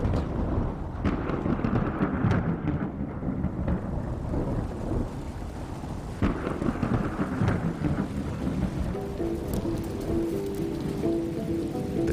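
Heavy rain pours steadily at the end of the dry season in Makgadikgadi, Botswana, while deep thunder rumbles and rolls on and off, with a loud crack partway through.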